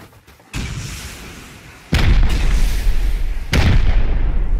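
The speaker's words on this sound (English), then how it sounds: "Yeah, shoot, someone shoot the wall" Gunfire from several players in the video game Rust, aimed at a base wall during a raid: three loud booming bursts, the later two heavy and sustained, each rolling into rumbling continuous fire.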